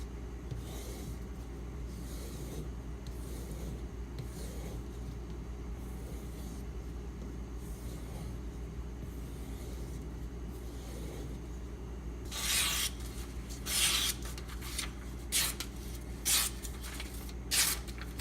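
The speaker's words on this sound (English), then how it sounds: "There's still some burr left. Just give it a quick strop, get that off." A knife blade stropped to remove the last burr after sharpening: a few quick, bright swishing strokes near the end, following a quieter, steady background.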